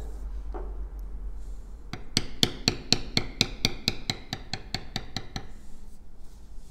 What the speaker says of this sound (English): So we'll need to switch over to a small bevel.